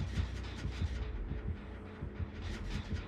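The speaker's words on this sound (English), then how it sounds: "I got heartbeats on me." The heartbeat warning from the Dead by Daylight video game, a steady low throbbing pulse of repeated thumps over a dull hum, playing continuously with no voices.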